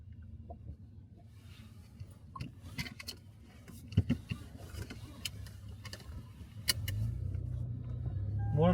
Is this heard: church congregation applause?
no